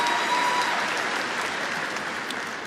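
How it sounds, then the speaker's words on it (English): Audience at a university fall commencement ceremony applauding a graduate, a steady, dense wash of many hands clapping that fills the hall and fades slightly toward the end. "Give her and her family a warm round of applause"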